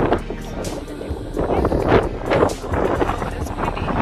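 Strong wind buffets the microphone in loud, gusting rumbles on rocks during a mountain hike, with a roar like waves or open water underneath.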